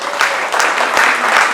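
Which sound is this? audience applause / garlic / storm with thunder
audience applause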